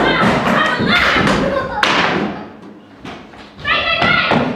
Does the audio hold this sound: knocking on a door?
yes